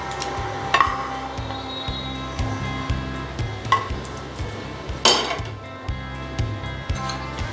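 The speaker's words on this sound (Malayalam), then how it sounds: "ഇനി നമ്മൾ അടിച്ചു വെച്ച മുട്ടയിലോട്ട് ഈ പഴം വരട്ടിയെടുത്ത് ഫ്രൈ ചെയ്തത് ഇട്ട് കൊടുക്കാൻ പോവാണ്" Fried plantain pieces go into a bowl of beaten eggs for Malabar kaipola, with a run of close clinks and knocks of a utensil against the bowl over a low steady kitchen hum, no talking.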